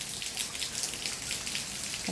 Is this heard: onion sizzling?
no